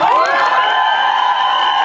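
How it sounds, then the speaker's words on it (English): A crowd at a film trailer launch event erupts in loud, close cheering and high-pitched whoops, a dense burst of voices sustained throughout. "Can we have like a huge cheer for Ayush?"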